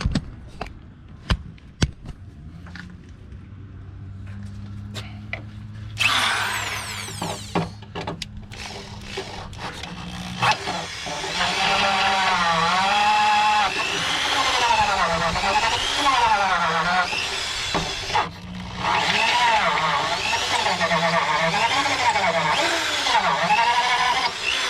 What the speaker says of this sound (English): So just gonna ream the holes out and be done with it,